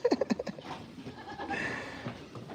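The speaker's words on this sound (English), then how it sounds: "Baby goats." Baby goats bleat on a farm, a few short close calls near the start followed by a busier stretch of mixed farmyard noise.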